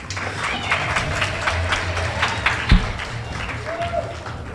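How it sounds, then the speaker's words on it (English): An audience claps for a presenter at a talk on teaching children with autism, a steady patter of moderate applause with one sharp thump, continuing throughout the clip. "Let's clap for her, please."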